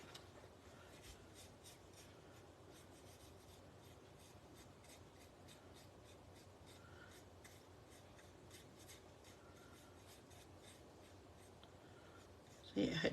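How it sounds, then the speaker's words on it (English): A hard brush rubs ink across a tropical-leaf rubber stamp, making a faint, steady scratchy swishing that continues throughout, with a brief louder bump at the very end. "then I'm going to give it a good rub with my hard brush"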